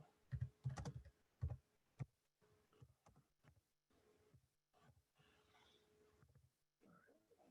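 Fingers tap out an address on a computer keyboard in quiet bursts of close clicking keystrokes, with brief pauses between short runs and a few louder thumps near the start.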